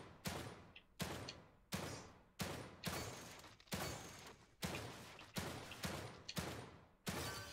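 Gunfire in The Evil Within 2, about nine loud, sharp shots spaced roughly evenly, each followed by a decaying echo, with no talk over them.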